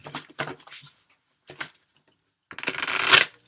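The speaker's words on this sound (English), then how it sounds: "2 more shuffles and we should be good to go." Tarot cards being shuffled by hand: a few short riffling bursts, then a longer, louder riffle near the end, close and clear with no talking.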